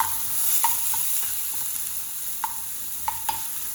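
Green chillies sauté in a pan, making a steady close sizzle with a few light taps and scrapes from a stirring spoon.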